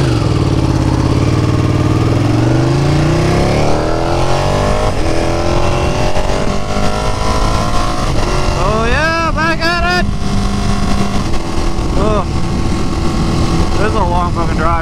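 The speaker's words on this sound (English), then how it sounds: "Listening to nothing but wind noise." Heavy wind roar fills the clip while riding a Ducati Panigale 959 sportbike on a long road trip. The engine note rises and falls in pitch beneath the rushing air, and the sound stays loud and close throughout.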